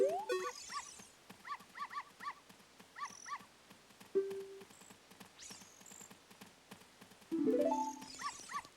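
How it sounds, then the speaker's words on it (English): Dog in Ocarina of Time, a game creature following the player, giving short yips and whimpers among busy game effects, chimes and rising tones, with no talk. "And this dog is still following me."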